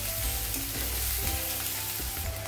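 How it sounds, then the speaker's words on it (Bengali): Grated ginger frying in a pan with garlic and onion, a steady close sizzle with scraping stir strokes running through the whole stretch, no talking. "আদাটাও আমি এভাবে কষিয়ে নেবো ভালো করে।"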